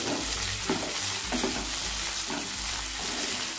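Chopped tomatoes are stirred into softened frying onions in a pan while cooking masala mushroom. A steady close sizzle runs throughout, with repeated scraping stirs of the spoon on the pan and no talking.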